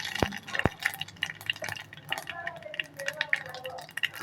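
Mustard and cumin seeds hit a spoonful of hot oil for tempering, crackling and sizzling close by with sharp pops and a steady frying hiss for a few seconds, with no talking.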